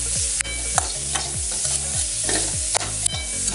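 A spoon stirs pasta sauce ingredients frying in a pan, with repeated rhythmic scrapes and clacks over a continuous sizzle, close and fairly loud, no voices.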